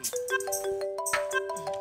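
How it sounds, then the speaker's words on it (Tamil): A bright electronic ringtone plays a quick, chiming melody of clear repeating tones, close and fairly loud. "ஃபோன் அடிக்குது"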